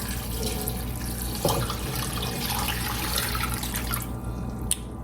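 Steady running tap water splashes continuously into a pot, two quarts for making corn cob jelly, with a few brief clinks and a faint drip near the end.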